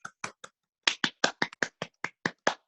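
A small group of people clapping briefly: a few sparse claps, a short pause, then a quick run of about ten sharp, evenly spaced claps, fairly close and without talk.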